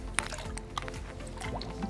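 Pool water is scooped up into a test container for pH testing, giving soft liquid splashes and drips with a brief sharper slosh near the start, close by and fairly quiet.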